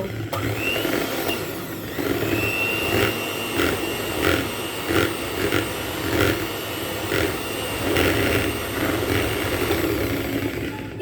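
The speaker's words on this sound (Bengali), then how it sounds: "আচ্ছা 1 মিনিট হচ্ছে ফার্স্টে আমরা লো স্পিডে বিট করব" An electric mixer beats batter at low speed with a steady motor whine, pulsing in a regular rhythm, close and fairly loud, with no talk.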